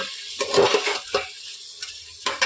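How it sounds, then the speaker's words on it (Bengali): Washed rice and dal being stirred in a pressure cooker for khichuri, giving a few scraping, rustling bursts with quiet gaps between them, close by and moderately loud, with no talking. "দু মিনিট একটু নেড়ে চেড়ে নেব"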